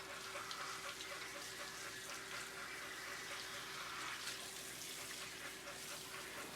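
Water from a sprayer runs steadily through a dog's coat while a groomer rinses out soap, a faint, continuous hissing wash with no talk.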